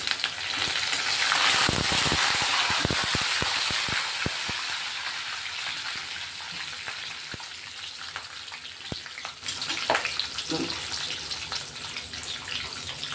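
Curry leaves hit hot oil in a pan while a tap-water-like sizzle spreads across the whole pan, loud at first and then easing to a steady fry, with faint crackles and pops scattered throughout.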